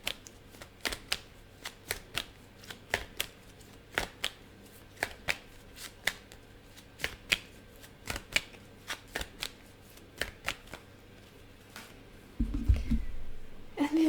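A deck of oracle cards being shuffled by hand in a quiet room, crisp riffling snaps and flicks repeating in irregular bursts, followed near the end by a louder rustling handling sound.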